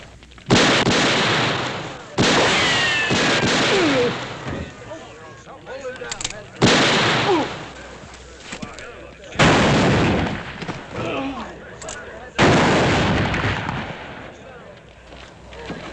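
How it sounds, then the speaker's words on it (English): Gunshots ring out in a Western drama, five loud, sharp blasts spaced a few seconds apart, each followed by a ringing echo and rumbling tail. "That's enough shooting."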